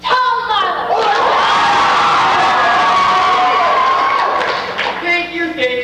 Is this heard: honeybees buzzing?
no